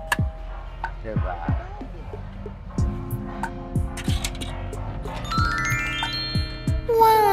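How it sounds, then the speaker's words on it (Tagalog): A chiming doorbell rings with a bright melodic tone, while people talk over and around it. "Mag-doorbell tayo."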